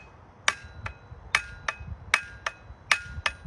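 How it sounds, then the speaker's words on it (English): Small hammer tapping the head of an axe to seat and tighten it on the wooden handle: about eight light, sharp metallic taps at a steady pace, close up with no talking. "you want to take a small hammer"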